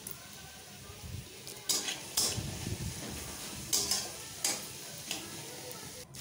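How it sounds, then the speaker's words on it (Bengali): Mixed vegetables for fried rice frying in a pan, a soft steady sizzle broken by several clattering stirs against the pan, close and moderately quiet. "তো ভাজা ভাজা হয়ে যাক।"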